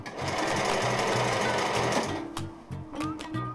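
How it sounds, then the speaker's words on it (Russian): A sewing machine stitches a children's cotton outfit in rapid, steady bursts, then slows to short, separate runs near the end, close and fairly loud with no talk. "садится за швейную машинку"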